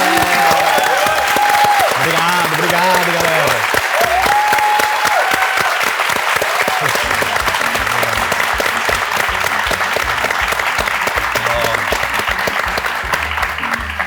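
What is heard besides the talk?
applause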